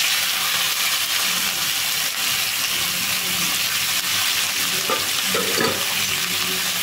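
Cluster bean pieces frying in oil and stirred in a pan, with a continuous close sizzle and a few scraping stir sounds near the end.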